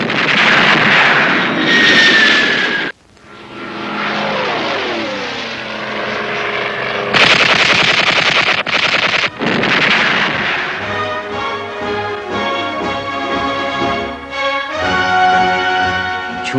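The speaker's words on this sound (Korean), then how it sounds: "최신형의 비행기와 저격 무기와의 전투가 벌어졌습니다." Heavy machine guns fire at attacking aircraft during a Korean War battle, with loud, close sustained bursts and the drone and whine of diving propeller planes overhead, continuous throughout.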